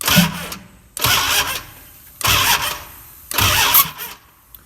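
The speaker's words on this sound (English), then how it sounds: "I'm going to spin the engine over" A Dodge Challenger engine cranks over in four separate bursts of about a second each, a loud, close churning of the starter and engine. Short pauses fall between the bursts.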